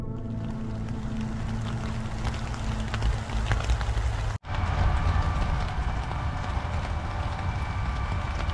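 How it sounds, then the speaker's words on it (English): A continuous droning airport rain alarm heard at night from a campsite nearby, steady and moderately loud, with a brief cut midway before the drone resumes. "It's got to be a rain alarm for the airport right over there"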